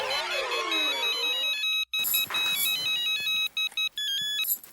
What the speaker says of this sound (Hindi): किसी और का भी फोन बज रहा है।